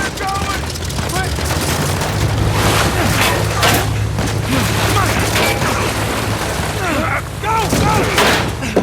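Gunfire rattles at a plane in the video game Uncharted 4, bursts of shots and booms over a loud engine drone, with voices talking through the barrage.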